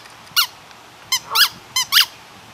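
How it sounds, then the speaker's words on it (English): A squeaky toy ball is squeezed four times in uneven succession, each squeak a short, bright, close, rising-and-falling chirp over a quiet background. "It's just a ball, huh? It squeaks."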